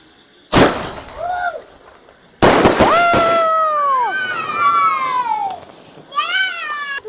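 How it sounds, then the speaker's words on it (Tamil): A sky shot firecracker set off at night gives sharp, loud blasts, each followed by shrill whistling tones and crackle as the shots rise and burst overhead. "மேலே போய் 7 வெடி வெடிக்குங்க"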